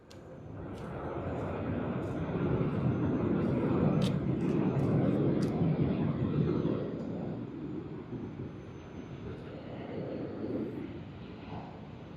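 An airliner arriving at Sydney Airport on a service from Melbourne, its broad engine roar swelling to a loud peak and then easing off into a steadier rumble, with faint voices murmuring underneath.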